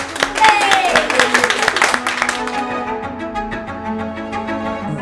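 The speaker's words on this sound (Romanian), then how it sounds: "aplauze pentru voi că ați venit aici" Audience at an evening workshop in Valea Doftanei applauding, a dense burst of clapping that starts loud and gradually thins out over a few seconds, with no speech on top.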